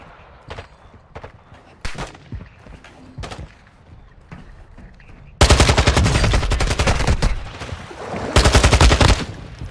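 Video game gunfire in the DMZ mode, starting with scattered single shots and then switching to loud, dense bursts of automatic fire that run almost without a break through the second half.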